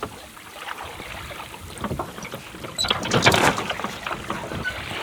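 A sailboat moving slowly under light wind, with soft water lapping and sloshing against the hull and some wind buffeting the microphone, growing a little louder midway.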